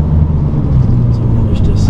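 An excavator being driven across a site gives a loud, steady low engine rumble throughout, with a few faint higher clanks near the end.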